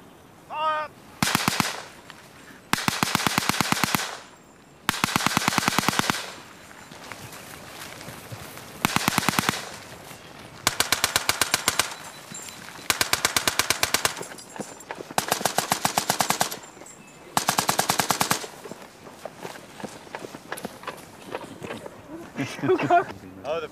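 Repeated bursts of rapid blank-fire rifle and machine-gun fire from a cadet platoon during a WWI-style attack exercise, loud volleys of several seconds each separated by brief pauses, with shouted commands and voices in between.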